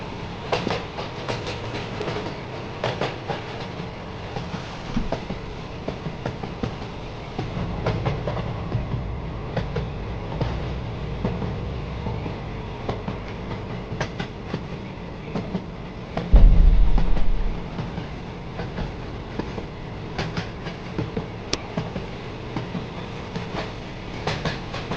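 A passenger train runs steadily on its rails, a continuous low rumble with faint clickety-clack from the wheels and one brief louder thump partway through, with no talk.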